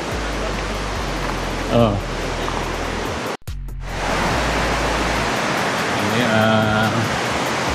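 Piduan Falls, a broad curtain waterfall, roars in a steady, loud wash of white noise close by, with short bits of conversation over it and a brief dropout partway through.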